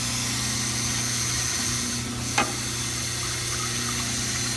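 Water runs steadily from a tap during the trimming of a stone dental cast, a constant rushing hiss layered over a low mechanical hum, broken by one brief sharp click midway.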